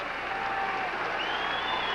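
Stadium crowd noise at a Virginia Tech vs Syracuse college football game, a dense, steady roar of many distant voices filling the air without a break.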